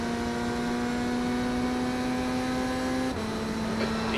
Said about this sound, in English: I think even the ZR1 is supercharged, so it's kind of a different sound.